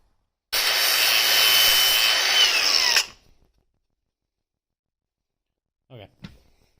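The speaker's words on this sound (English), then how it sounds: "I'm gonna grind these real quick since I want this side to look the best." A power grinder works on parts of a Yamaha Raptor ATV in one loud, steady burst of about two and a half seconds, then cuts out and winds down, followed by silence and a brief faint voice.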